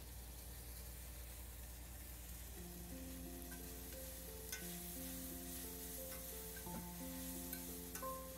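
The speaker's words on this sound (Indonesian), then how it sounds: "Ini daun pepayanya kita goreng biar enak." Papaya leaves fry in hot vegetable oil with a constant dense sizzle and crackle close up, while a low steady tone hums underneath; no one speaks.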